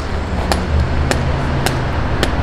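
Metal safe struck with a hammer to break it open: four sharp, evenly spaced blows about half a second apart, loud and close over a steady background hum.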